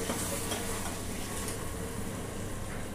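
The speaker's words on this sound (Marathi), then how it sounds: "मस्त डाळीला फोडणी बसलेली आहे" Dal sizzles in a hot tempering of spices in a pan, a dense continuous frying hiss with faint crackles throughout.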